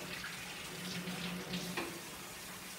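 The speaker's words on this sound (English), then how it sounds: "Let's turn the water on." Tap water runs into a sink for handwashing in a school setting, a soft, steady splashing stream heard close and continuous, with faint murmur behind it.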